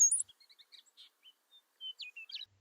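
Small wintering birds call at Bosque del Apache, New Mexico, giving scattered high chirps and short whistled notes with brief pauses, faint against a quiet background and with no other sounds.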